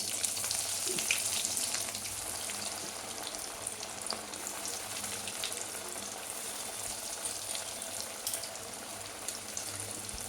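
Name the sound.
lotia fish chops frying in hot oil in a wok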